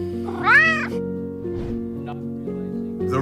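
A cat gives a loud, rising-and-falling meow as its soldier owner comes home, followed by a couple of softer, shorter mews over a steady background hum.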